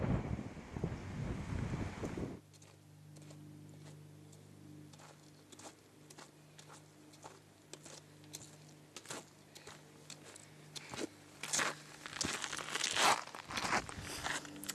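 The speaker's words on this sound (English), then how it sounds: "It's fairly windy" Wind gusts buffet the microphone on a mountain trail in Saguaro National Park, a steady low rush with sharper bursts of turbulence that grow stronger near the end.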